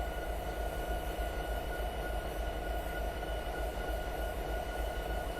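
SD70 MAC diesel locomotive in Train Simulator, a steady low engine drone with constant mechanical hum and faint tonal whine, unbroken throughout.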